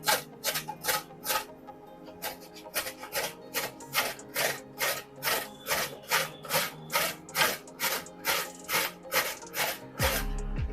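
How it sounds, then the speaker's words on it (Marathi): Raw green mango is grated with its peel still on, making steady, rhythmic rasping strokes about two per second. The scraping is close and continuous. "साल न काढताच आता आपण ही कैरी किसून घेऊया"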